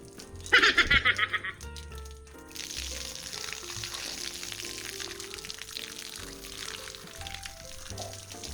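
Rainwater gushes off a sagging tarpaulin in one short, loud splashing burst near the start, followed by quieter trickling under a background of tonal sounds.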